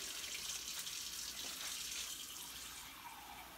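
Water pours steadily into a cooking pot to cover pig feet and pig ears. The splashing gush is close and continuous and eases off slightly toward the end, with no voices.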